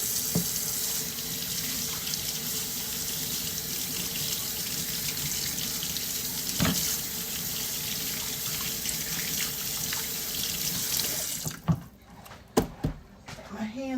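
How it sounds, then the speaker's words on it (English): Hands being washed under a running kitchen tap at the sink: a steady hiss of water for about eleven seconds, then the flow stops and a few clunks and handling sounds follow, with a voice speaking briefly. "So let me wash my hands."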